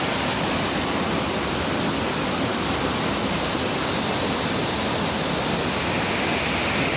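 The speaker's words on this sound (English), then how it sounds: "here we are at the river." Clean, pure river water flows in a steady, unbroken broadband rush that stays close and fairly loud throughout, with no voices over it.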